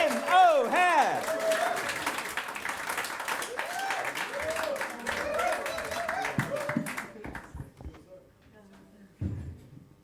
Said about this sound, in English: Sue, start the applause.